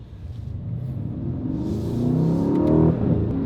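A 2019 Mercedes-AMG C63 S Coupe facelift, warmed up and set to race mode, revs its engine with a deep, close rumble that swells steadily in pitch and volume before easing off.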